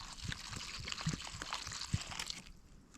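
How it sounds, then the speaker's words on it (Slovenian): Water, about three decilitres, is poured into a tactical food pack of rice with pork, a soft close trickle and gurgle with small splashy bursts that tapers off near the end, with no talking. "mi nalijemo sedaj notri vode"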